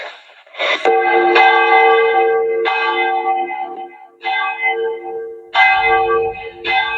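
A handheld bell rings for the Mexican independence grito in several separate bursts of clear, bright metallic peals, each one sustained briefly before the next strike, loud and close.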